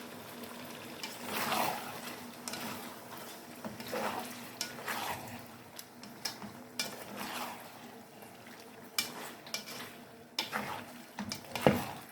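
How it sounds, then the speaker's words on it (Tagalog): Hotdog slices being stirred through a simmering pot of beef kaldereta, with repeated scraping stirs and light sizzling bursts at an irregular rhythm, close by. "Nilagay po natin ang hotdog. Ito po, hotdog."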